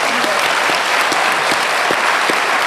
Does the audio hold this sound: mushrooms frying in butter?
no